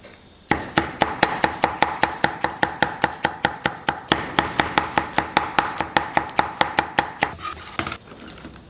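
A knife chops shiitake mushrooms on a cutting board in a home kitchen: about thirty crisp, evenly spaced strikes in a fast, steady rhythm, close and fairly loud, ending with a brief scrape.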